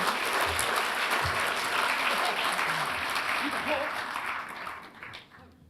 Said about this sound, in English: a round of applause for Devon Global Sustainability Fund